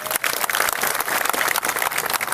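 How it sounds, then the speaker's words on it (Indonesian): Audience applause at a motivational business seminar, a brisk, dense patter of many hands clapping with no talk over it. "Tepuk tangan untuk mereka."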